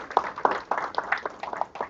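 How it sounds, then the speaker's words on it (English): A convention audience in Atlanta claps, with distinct individual hand claps standing out in an irregular rhythm over a thinner layer of applause. "Let's give them another hand of applause."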